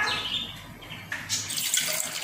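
Water pours into a pressure cooker while mushroom biryani is being made, a steady close splashing flow that rises briefly partway through, with no talking.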